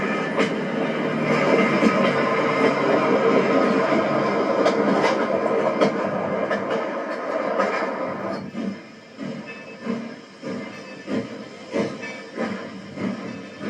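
Milwaukee Road 261 steam locomotive on the TC&W line in 1998 rolls slowly up to a railroad crossing with a downed signal. A steady hiss and rumble give way to a sparse, rhythmic clicking of wheels as it slows.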